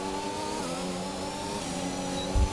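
Formula 1 car engine in the F1 2021 video game accelerating hard down a straight with DRS open, a steady loud high-revving drone with rising harmonics, ending with a brief low thump.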